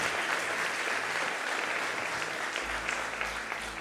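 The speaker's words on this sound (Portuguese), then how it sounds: "Então aplauda ao Senhor e glorifique o seu nome." A church congregation applauds together, a dense wash of steady clapping heard alone at a moderate distance for a few seconds.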